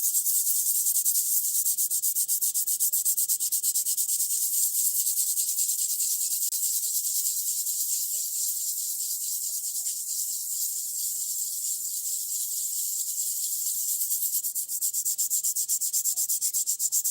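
Steady, fine, hissing rub of 3200 grit sandpaper worked back and forth continuously at close range, with no voices.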